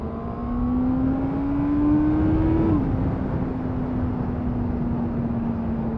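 A 2023 Honda CBR650R motorcycle engine pulls hard with a rising whine, eases off briefly at a gear change, then carries on at a steady cruising drone.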